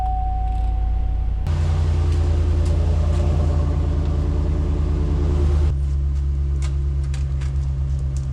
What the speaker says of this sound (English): Gotta let the truck warm up.